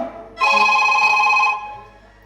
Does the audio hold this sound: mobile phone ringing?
yes